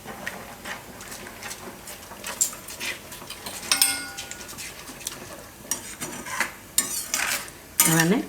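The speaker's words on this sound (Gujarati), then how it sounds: "વચ્ચે વચ્ચે હલાવતું રહેવાનું." Sauce for a vegetable lasagna stirred as it boils in a pot, with intermittent scraping and clinking of a spoon against the metal sides, moderately close and with no talking.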